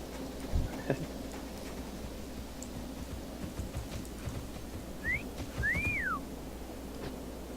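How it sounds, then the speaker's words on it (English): In a video game, a couple of short, faint whistles at a ram, one rising and one swooping up and down, over a steady hiss and light background ticking. "So I got to go find a ram and whistle at it."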